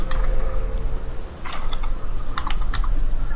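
A search is typed on a computer keyboard, a quick close burst of key clicks in two short flurries over a steady background hum.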